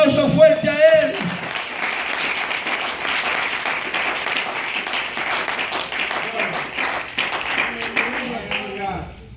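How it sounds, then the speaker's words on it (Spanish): A church congregation applauding, a sustained wash of many hands clapping for several seconds, with a voice speaking briefly at the start and end. "Dale un aplauso fuerte a Él."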